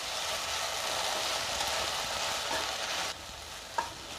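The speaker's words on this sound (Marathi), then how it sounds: "दही आपल्याला शेवट घालायचे आणि पुन्हा छान मिक्स करून घ्यायची भेंडी" Cooked okra with yogurt being stirred in a hot pan, giving a continuous close sizzle with scraping from the stirring. The sizzle softens slightly toward the end, and one sharp clink of the spoon sounds against the pan.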